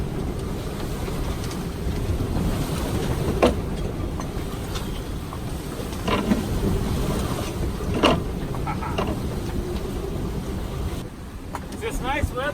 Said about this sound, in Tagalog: What a big wave.